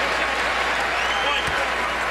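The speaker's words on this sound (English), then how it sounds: "As you listen to this crowd, they appreciate it" Basketball arena crowd at a Louisville vs Syracuse college game giving a sustained ovation, dense steady applause and cheering filling the whole moment without letup.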